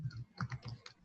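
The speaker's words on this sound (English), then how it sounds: "Is that you typing, Dee, or someone else?" Keys on a computer keyboard are tapped in a short quick burst of about eight soft clicks, faint and distant, during an online round-table call with no speech over it.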